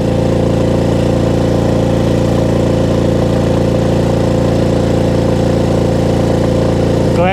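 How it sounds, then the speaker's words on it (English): Motorbike engine climbing a mountain road in Ba Vi National Park, Vietnam, carrying a rider with a heavy pack; a loud, steady close-up drone throughout with no talking. "Glad I got a good motorbike as well."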